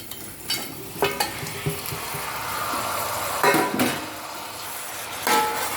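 Steady oil sizzle in a pan as fried chicken is stirred into masala, with a few sharp scrapes and clinks of a spoon, close and fairly loud, no talking.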